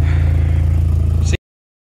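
A modified VW Jetta's engine hums loud and steady with a throbbing low rumble, then cuts off abruptly just before the end.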